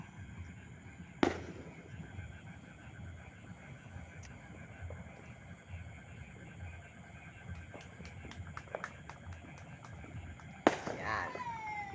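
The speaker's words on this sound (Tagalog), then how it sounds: "Madalang po ang putukan dito." New Year fireworks and firecrackers go off in the distance in the Philippines, with a couple of sharp bangs standing out and fainter pops and crackles scattered over a steady low rumble of background noise.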